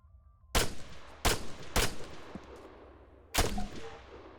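Rifle fire at targets in the military shooter Arma 3: four loud, crisp shots, three close together and then one after a short pause, each ringing out against near silence.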